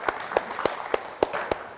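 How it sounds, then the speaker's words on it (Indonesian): A small audience at an official launch event at the Yogyakarta public service mall claps about six times in a steady, evenly spaced rhythm, crisp and fairly close. "Beri tepuk tangan dong untuk pelayanan yang luar biasa ini"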